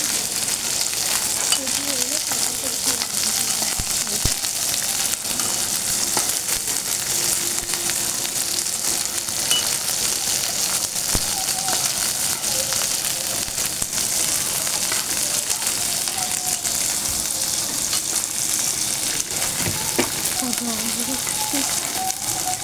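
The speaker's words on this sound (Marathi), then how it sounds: "आता भेंडी छान फ्राय झाली आहे" Okra fries in a pan over a gas flame, giving a steady, close, dense sizzle and crackle that runs without a break from start to finish.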